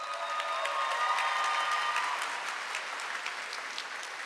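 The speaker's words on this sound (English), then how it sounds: "Give them a round of applause." Steady applause from a large audience at a Venture High School graduation ceremony, dense clapping holding at full strength for about two seconds and then easing slightly while continuing to the end.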